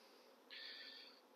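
Honey bees on a frame pulled from a nuc give a faint, thin buzz that rises suddenly mid-clip and hangs steady before easing off, quiet and close with no voices.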